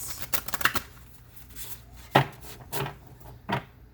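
Soft papery riffling of Shaman's Dream Oracle cards being shuffled, a few quick flutters followed by scattered taps and slaps, close and fairly quiet.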